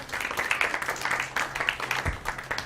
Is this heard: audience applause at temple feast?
yes